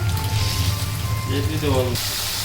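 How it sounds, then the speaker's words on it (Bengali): Spice masala fries in a pan for an egg dish, giving a steady low sizzle and crackle. A brief tonal squeak rises near the end. "মশলাটা ভালোভাবে কষিয়ে নিচ্ছে"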